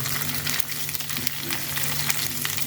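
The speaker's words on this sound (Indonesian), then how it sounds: "tomat serta cabai hijaunya. Ini kita goreng asal layu aja." Tomatoes and green chilies fry in a pan, giving a steady, close sizzle with light crackling and the odd stirring scrape throughout, with no talk.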